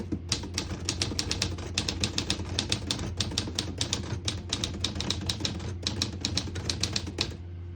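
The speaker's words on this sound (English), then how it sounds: "Beautiful typing machine." Typing on a 1954 Smith-Corona Silent-Super manual portable typewriter, close and crisp, with fast bursts of keystrokes clacking in quick irregular runs over a low steady hum, no voices.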